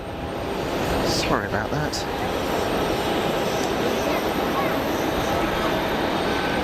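A jet airliner at Geneva Airport roars steadily from the apron or runway, a broad sustained engine rush with a brief voice speaking over it near the start.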